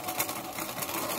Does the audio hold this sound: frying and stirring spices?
no